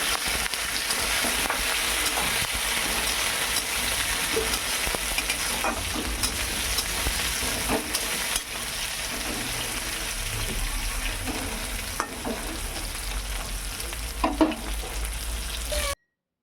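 Brinjal and green chillies frying in a pan, a continuous loud sizzle with occasional scraping and stirring clatter, steady throughout and heard without any talking.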